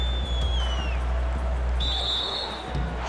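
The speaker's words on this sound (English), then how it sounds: "Shooting foul as the whistle blows." A referee's whistle shrills twice during an NBA 2K20 Finals basketball game between the Lakers and Bucks, a long sliding tone then a short sharp blast over a constant crowd roar and arena hum.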